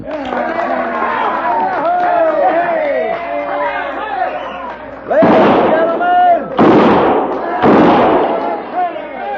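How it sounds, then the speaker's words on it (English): Six-gun shots ring out in a crowded frontier saloon as an old-time radio drama effect: three loud bangs in quick succession over busy crowd chatter and voices. "kindly refrain from shooting 6 guns in the establishment"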